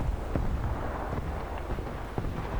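Tank cannon firing in War Thunder, a few dull booms spaced apart over a constant low engine rumble, fairly muted.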